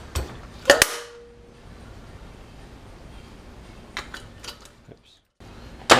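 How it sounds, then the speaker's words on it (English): A valve spring compressor works on a Chevy K20 cylinder head in a garage, giving loud metallic clanks and a ringing snap, then quieter creaks, clicks and ratcheting metal taps with a final sharp clank. "spring compressor here, which I think actually just broke, didn't it?"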